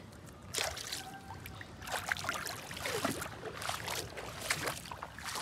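Water splashes and trickles in uneven gushes into a flooded rice paddy during planting, faint and nearby, as if being poured or pushed through shallow water.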